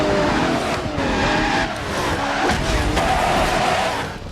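Enzo Ferrari racing in the video game Project Gotham Racing 2, with a loud engine roar and squealing, skidding tires through a continuous run and a faint crowd underneath.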